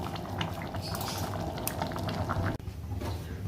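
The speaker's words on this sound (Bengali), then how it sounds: "ঘুগনিটা ফুটে উঠেছে, তো আমি সামান্য চিনি দিয়ে দিলাম।" Dried-pea ghugni curry bubbling at a steady boil in a pot, with a dense, continuous simmering burble close by and no one talking.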